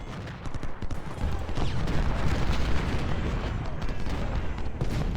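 Artillery cannon fire in Ultimate General: Civil War, a continuous rumbling barrage of overlapping booms and distant shots, loud and dense throughout.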